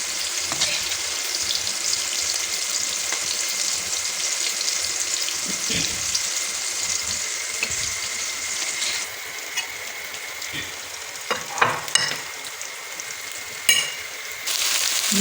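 Onions sizzle and fry in a pan until soft and lightly golden, a steady crackling hiss with occasional louder pops and stirring clinks, close and continuous with no talking.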